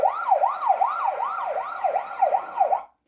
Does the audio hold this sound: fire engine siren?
yes